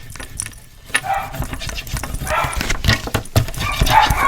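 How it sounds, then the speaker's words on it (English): Puppies bark in a house in the background, mixed with clattering, jangling handling noises nearby, fairly busy and continuous. "my puppies, hopefully you can't hear them. They's barking."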